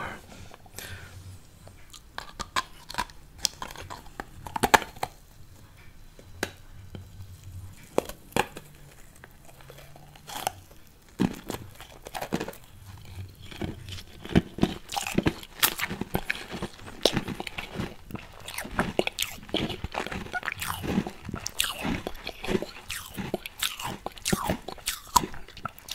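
Crunchy pink unicorn-shaped marshmallow being bitten and chewed up close, a steady run of loud crisp crunches and wet chewing with no talk.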